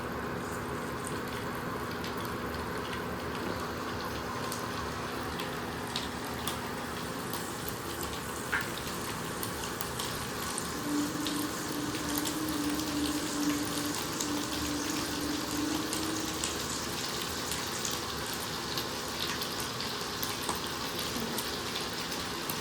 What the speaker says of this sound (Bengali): তেলটা গরম হয়ে গেছে, আস্তে আস্তে পনিরগুলো দিয়ে দিচ্ছি।